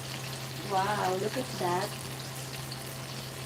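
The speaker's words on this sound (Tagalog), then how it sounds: "Kumukulo na." A pot of vegetable dish bubbles and sizzles steadily on the stove, with a person speaking briefly over the cooking noise.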